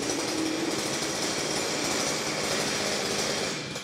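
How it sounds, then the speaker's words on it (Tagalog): A wheeled grass cutter's small engine runs steadily and loudly throughout, a continuous buzzing drone with no talk over it. "Dito naman po tayo sa grass cutter na may gulong."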